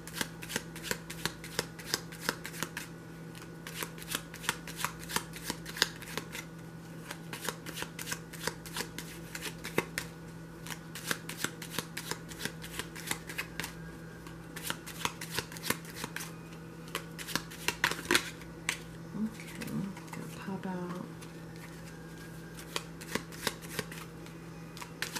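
Tarot cards shuffled by hand for a reading, a long steady run of soft riffling card flicks close by, with faint low hum beneath and a few quiet murmurs near the end.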